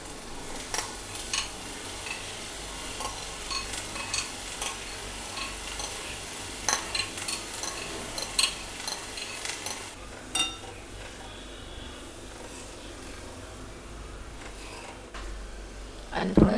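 Chickpeas being stirred into a pan with coriander powder, salt, chaat masala and coriander leaves for chana chor garam, with scattered spoon clinks and scrapes over a low background hum and soft sizzle; a few louder knocks near the end.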